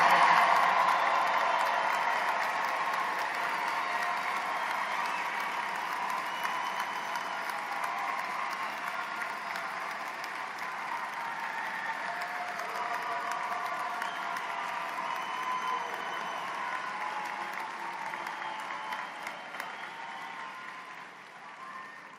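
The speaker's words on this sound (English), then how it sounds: "Big round of applause for the class of 2023." A graduation ceremony crowd applauds the class of 2023 with sustained, dense clapping and faint cheers, loudest at the start and slowly tapering over about twenty seconds.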